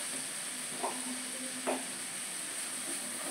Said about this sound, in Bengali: তো টমেটো পিউরিটা দিয়েছি তো একটা কাঁচা গন্ধ থাকে, সেই জন্য এটাকে আমি একটু ভালো করে কষে নিচ্ছি।